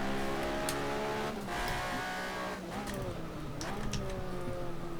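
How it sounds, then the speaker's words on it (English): A racing car's tyres squeal under hard braking with the brakes locking up on a downhill approach, a high whining screech over a loud engine drone that rises and falls across the run. "You can hear the tyres squealing."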